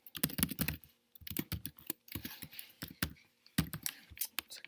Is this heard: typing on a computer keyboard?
yes